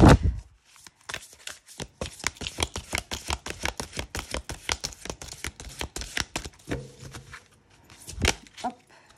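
Tarot cards are shuffled by hand, a rapid run of crisp papery riffles and slaps up close, pausing briefly before a few final snaps.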